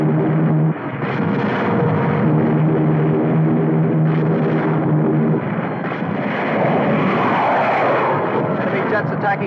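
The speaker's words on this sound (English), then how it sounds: "Enemy jets approaching Boulder Dam." Enemy jet aircraft attacking a dam in a 1952 film soundtrack, a loud continuous roar of engines with rumbling blasts and a harsh rushing swell, while a voice speaks over it.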